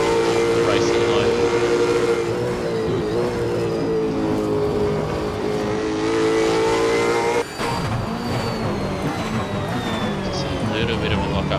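Supercars race cars at Sandown Raceway roar past under a sustained, loud engine drone, with a sharp cut partway through before the engine noise picks up again.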